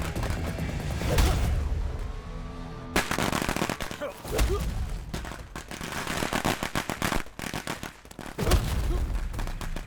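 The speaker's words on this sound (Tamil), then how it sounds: "எவன் நான் ஏரியாவில் பட்டாசு போடுறது?" Loud, fast bursts of firecrackers crackling in long rapid chains, with a whooshing streak and a few heavier bangs between volleys.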